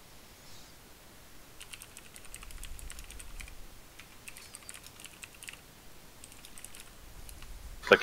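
Computer keyboard typing during an online raid session comes as quiet, intermittent bursts of clicky keystrokes over a low background, with a louder knock right at the end.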